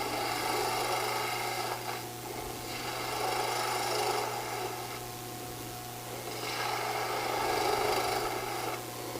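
A woodturning tool cuts wood spinning on a lathe, giving a steady, close rasping scrape that rises and falls in long slow swells as the tool moves across the piece.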